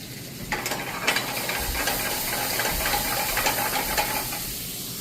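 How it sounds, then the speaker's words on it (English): Rice boils in a covered pot on a home stove, giving off a steady close hiss of steam with soft bubbling throughout. "right now I got the rice is boiling"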